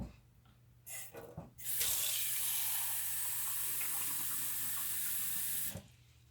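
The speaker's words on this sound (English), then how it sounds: "3 cups of warm water goes into the bowl" Warm water runs from a kitchen tap into a mixing bowl for bread dough, a steady close rushing stream lasting several seconds after a few short clunks, then shut off; no talking.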